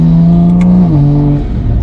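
A Toyota Supra fitted with an Armaspeed carbon fiber air intake accelerates up close. The engine note is loud and strong, holds a steady drone, then steps down in pitch as the car shifts gear.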